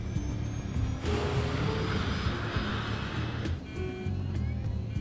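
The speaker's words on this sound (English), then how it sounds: "It's a very noisy engine with a particularly nasty crackle to it." Aircraft engine roaring at takeoff power, a very noisy engine with a nasty crackle, a loud sustained rumble that swells and then eases as it passes.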